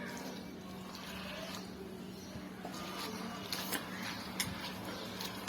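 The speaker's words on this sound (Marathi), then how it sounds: "आता 2-3 पाण्याने स्वच्छ धुवून घ्यायचे आहेत" Quiet sloshing water with a few light splashes and clicks as sprouted mung beans are swirled and rinsed in a bowl, close and steady.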